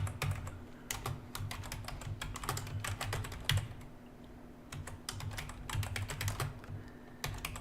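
Rapid bursts of keystrokes on a computer keyboard as an address is typed into a property search, steady clicking with brief pauses, close and alone over a faint electrical hum.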